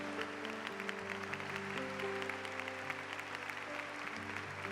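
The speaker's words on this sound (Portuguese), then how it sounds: "Vamos aplaudir o Santo Evangelho." Church congregation at Mass applauding the Gospel, a soft, distant patter of clapping beneath sustained organ or keyboard chords that shift in pitch.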